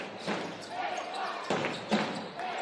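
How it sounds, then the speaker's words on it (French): A basketball dribbled on the court during a French pro league game, Boulazac at Monaco, bouncing a few times in a loud arena under a commentator's voice and crowd noise. "Il a arrêté son dribble."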